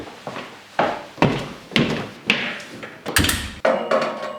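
Thumps, slides and rattles from an office desk drawer being opened and rummaged, a string of close, fairly loud knocks and clatters at an uneven pace, with no voices.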